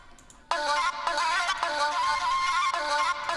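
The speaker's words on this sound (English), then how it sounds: "And finally I have this, which is the flute." Looping flute melody in a music track, a bright repeating tonal phrase entering after a quiet start and playing steadily at moderate volume, with no talking.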